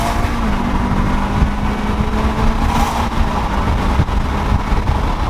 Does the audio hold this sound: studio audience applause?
no